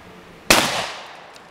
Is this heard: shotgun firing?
yes